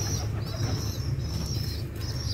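Mukhi pigeons kept with their two chicks, giving a steady, close, low rumbling coo that carries on through the whole stretch, with faint fluttery rustles and no voices.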